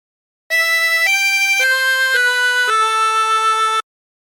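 A reedy, sustained melody of five held notes on a 16-hole tremolo harmonica, stepping between pitches, clean and alone, followed by silence.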